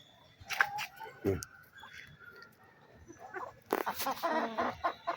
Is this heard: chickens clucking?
yes